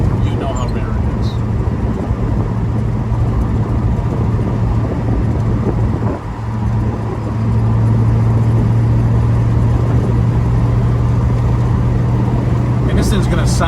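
A 1969 Buick GS400 Stage 1 convertible with a four-speed runs steadily close by, a low, even engine drone holding throughout with a brief dip midway before settling back in.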